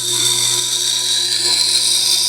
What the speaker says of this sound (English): let's remove the burr real quick too.